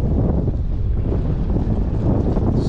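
A northeast wind at 10 to 15 blows over a singlehanded sailboat on Lake Michigan, a loud steady rumbling buffet across the microphone with a low water wash beneath, no talking.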